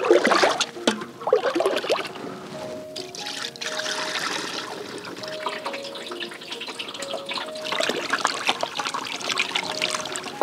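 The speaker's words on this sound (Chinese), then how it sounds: "接下来开始过滤。" Yam starch water is poured through a filter into a basin, making a continuous close trickle and splash of moderate loudness with occasional louder bursts.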